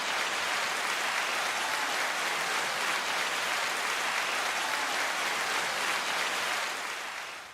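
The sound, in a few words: round of applause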